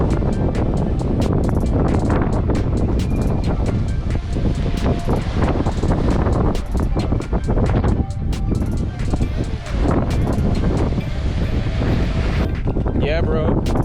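Strong wind buffets the microphone at a busy kite beach, loud gusting roar with surf underneath and a constant rush of air across the whole stretch.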